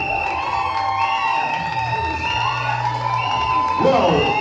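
Wedding guests at a civil marriage cheering for the bride, a loud crowd of whoops and shouts with overlapping voices, rising again near the end.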